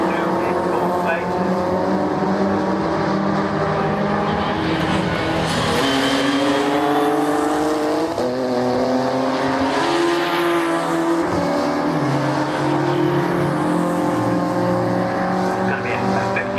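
Saloon race cars at Oulton Park in a 15-lap championship race, engines roaring loudly and continuously as they pass and shift, with a commentator talking over the noise throughout.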